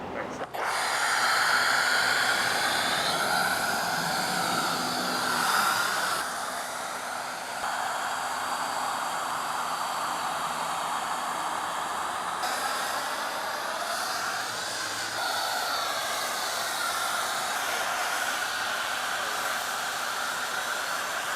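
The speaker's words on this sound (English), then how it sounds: "we're gonna need the power of our torque foam cannon paired with our citrus washing gloss" A Torque foam cannon sprays citrus wash foam onto one dirty side of a car, giving a steady, loud hiss that eases slightly midway and then carries on.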